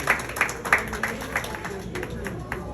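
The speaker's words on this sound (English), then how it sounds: "Big round of applause for him." An audience claps at a formal gathering, sharp scattered claps at first settling into a steadier moderate round of applause, with faint voices underneath.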